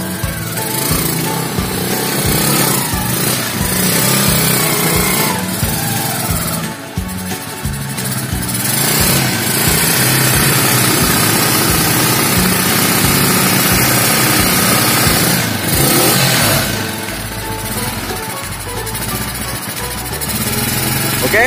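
A secondhand three-wheeled motorcycle used for delivering gallon water jugs runs with a steady, loud, rough engine drone and chugging rhythm throughout, dipping briefly midway before resuming.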